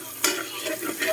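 Chicken pieces hit a hot pan with lots of garlic for adobo, giving a sudden burst of sizzling followed by steady close frying and a scrape of stirring.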